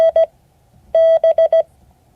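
Steady, clean Morse code tones from a code-practice class: a quick pair of short beeps, a pause, then a longer tone followed by three short ones, loud and close with no talking.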